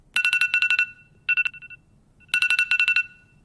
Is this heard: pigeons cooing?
no